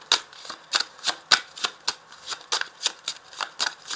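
Tarot cards shuffled by hand in a steady rapid riffle of about a dozen crisp, papery slaps, close and clear, with no talking.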